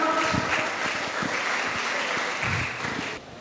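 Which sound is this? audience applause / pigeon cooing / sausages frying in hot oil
audience applause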